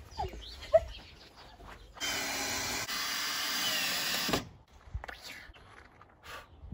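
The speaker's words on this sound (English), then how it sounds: "Oh, the drill." A power drill runs steadily for about two and a half seconds at close range in a room where someone is painting, starting and stopping abruptly, with quiet movement and faint sounds before and after.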